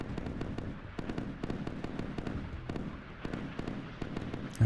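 Harpoon anti-ship missiles launching in the Sea Power naval video game, a run of sharp popping reports spaced irregularly over a steady low rumble, fairly faint and distant, with no talking.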